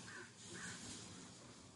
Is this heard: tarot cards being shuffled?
no